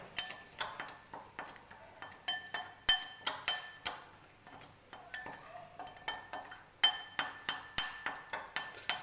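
A spoon clinks rapidly and repeatedly against a glass while a homemade teeth-whitening paste is stirred, giving bright, steady ringing taps in quick bursts with brief pauses.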